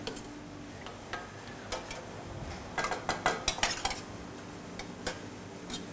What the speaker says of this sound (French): Et puis on va faire ça à la cuillère.